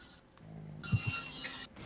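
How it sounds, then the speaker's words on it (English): A person snores over a Discord voice chat, giving a short, low, rumbling snort in the middle of a faint, noisy line with brief gaps of near silence. "She's just snoring like nobody's business now."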